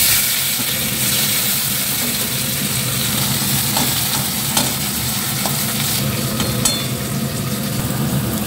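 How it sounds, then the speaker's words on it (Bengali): Leftover rice from the fridge reheats in a pan, giving a steady close sizzle broken by scraping stirring strokes, with no talking. "কালকে ফ্রিজের ভাত ছিল, সেই ভাতগুলো গরম করছি"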